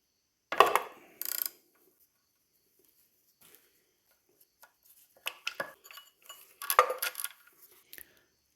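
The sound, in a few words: ratchet removing 16mm oil pump sprocket nut, BMW S62B50 V8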